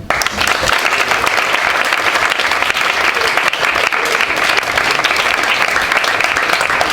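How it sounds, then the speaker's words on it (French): An audience at a national debating championship final applauds a debater, a loud, sustained round of dense clapping from a large crowd that starts abruptly and holds steady for several seconds with no talking. "Veuillez applaudir Étienne."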